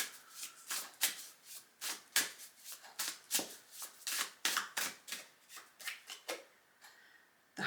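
A deck of tarot cards is shuffled by hand up close, a quick run of soft riffling bursts and taps in an uneven rhythm, quiet and alone.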